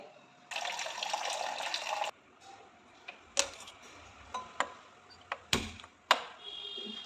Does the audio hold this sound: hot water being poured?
yes